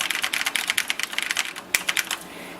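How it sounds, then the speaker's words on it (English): Rapid typing on the mechanical keyboard of an old NEC PC-9821 Ce2 computer with linear switches, a quick irregular run of crisp clacky keystrokes, close and clear with no voices. "this is an old, nice mechanical keyboard with linear switches, and it feels nice to type on. It's got a nice sound to it"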